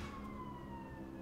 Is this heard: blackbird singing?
no